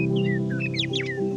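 Several birds chirp and whistle in quick, bright little phrases over a steady low hum, with the calls overlapping at moderate distance.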